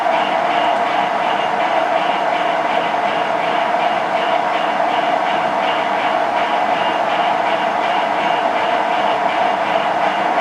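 A brazed tool bit ground on a bench grinder gives a steady, loud, continuous whine and hiss with no pauses, and nobody speaks over it.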